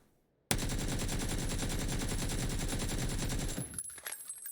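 Rapid automatic gunfire bursts out suddenly and sustains for about three seconds in PUBG during recoil testing, a dense rattling stream of shots that cuts off into a few scattered echoes.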